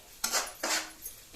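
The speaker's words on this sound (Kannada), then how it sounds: "ಬೇವಿನ ಸೊಪ್ಪು ಮಿಕ್ಸ್ ಮಾಡ್ತೀನಿ ನೆಕ್ಕೆ" A metal spoon scrapes and clinks against a pan as curry leaves are stirred into chicken sukka, two distinct sweeping strokes and a faint third touch, close and clear with no voices.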